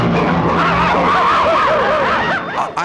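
A cartoon car zooms in loud and close in a Porky Pig short, its engine whining in swooping, rising and falling glides over a steady rumble, then cutting out abruptly at the end.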